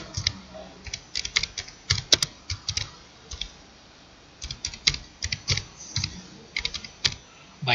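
A computer keyboard is typed on in uneven bursts of quick, crisp keystrokes with brief pauses between groups, close and clear with no voices.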